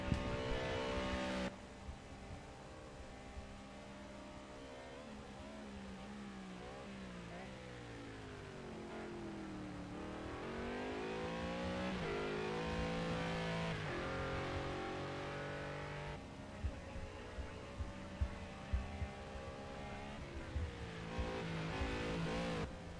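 A race car engine in the racing game Project Cars 2 at Fuji, revving hard through the gears with rising and falling pitch sweeps as it accelerates down a long straight, loud and continuous.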